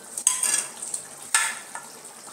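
Garlic frying in a pan for lauki kofta curry, with soft sizzling and two sharp utensil clacks as it is stirred, quiet and close.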